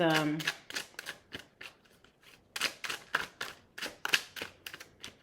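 Tarot cards being shuffled and drawn, a string of quick crisp riffling snaps and slaps in bursts with a short pause midway, close and clear, with a brief voice at the start.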